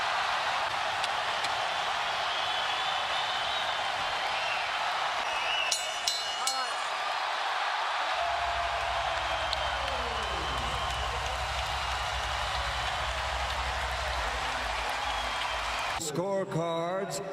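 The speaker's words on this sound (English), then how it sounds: "The crowd loves it." A boxing arena crowd at the Pacquiao vs Rios fight roars steadily throughout, a dense sustained wash of cheering and applause with a few sharper bursts near the end.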